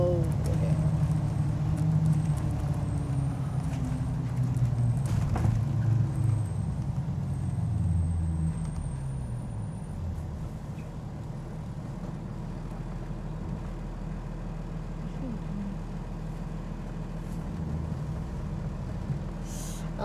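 A bus engine rumbles loud and low on a road, with a hiss of air brakes and a rising, then easing drone that carries steadily throughout, heavy and close.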